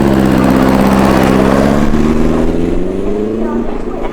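A motorbike-powered go kart running on nitrous at Santa Pod roars loudly and steadily, its engine tone rising and falling with revs, while people talk over it throughout.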